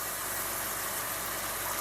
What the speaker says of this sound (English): my air fryer that sounds like a dang airplane